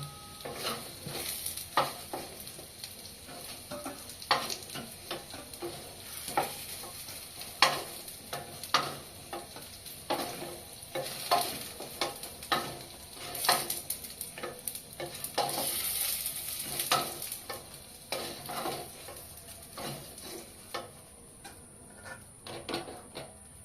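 Pointed gourds fry in oil in a pan while being stirred, with a continuous sizzle broken by frequent scraping and clacking strokes of the spatula, close and fairly quiet.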